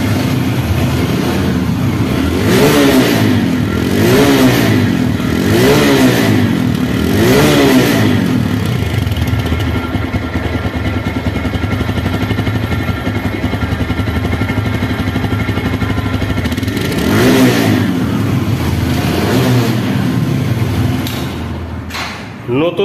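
The engine of a used TVS Stryker motorcycle in showroom condition idles close by, loud and steady, with rhythmic rising revs that repeat several times and fall back, running throughout.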